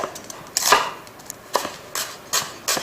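A knife chops a brown onion on a cutting board for a Spanish tortilla, giving a handful of crisp, irregular thuds with brief quiet gaps between them, close and clear.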